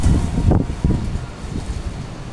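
Wind blowing high in the treetops on a rainy afternoon in Vietnam, a steady rushing gust with buffeting rumble against the microphone and no voices.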